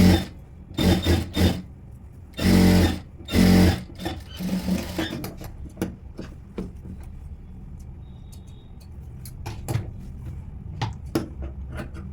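Sewing machine stitching a princess cut blouse, with several short loud whirring bursts of stitching in the first few seconds, then quieter clicks and handling taps of fabric and machine parts.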